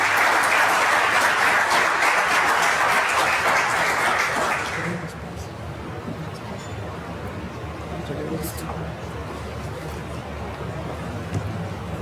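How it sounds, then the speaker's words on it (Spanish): Audience applause welcoming a speaker at a public lecture on peace and climate change, loud dense clapping that dies away after about five seconds into a quiet room with faint murmurs. "Recibámosla con un fuerte aplauso."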